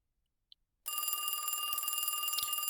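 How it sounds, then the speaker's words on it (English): A telephone rings in a phone booth in the video game Beneath the Crushing Sky, bursting in abruptly after near silence with a loud, continuous bright bell ring that holds to the end. "Suddenly, a loud ringing pierces through the air."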